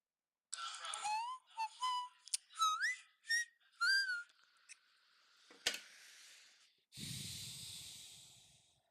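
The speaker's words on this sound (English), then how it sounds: "He's just whistled the Telstra ad song" Someone whistles the Telstra advertising jingle on a voice message, several short sliding whistled phrases with gaps and sharp breathy snorts between them, followed by a burst of hissy noise at the end.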